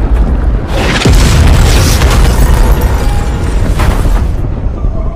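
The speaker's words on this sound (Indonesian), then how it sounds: "bersamaan dengan itu musuh juga sudah sempat meluncurkan satu serangan ke arah Sugar dan Bishop sebelum bom yang diluncurkan Reaper tiba" A loud bomb blast in a war film lands as a deep booming explosion with a rumbling roar that stays heavy and sustained for several seconds and carries no speech.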